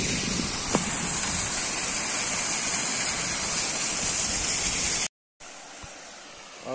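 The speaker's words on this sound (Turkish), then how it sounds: "Şelalenin üstte çıkıyor şu an arkadaşlar." Harman Kaya waterfall in Zonguldak roars as a dense, steady wash of falling water, loud and continuous, with a brief cut before it resumes fainter.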